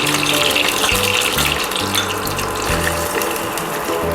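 Tempering with curry leaves poured into sour Bengali tok dal: a steady, loud liquid rush with a low pulsing hum beneath, lasting throughout with no talking.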